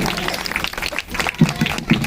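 An audience claps to welcome a speaker at a women's gathering for a BSP election campaign, with a short burst of applause mixed with voices close by.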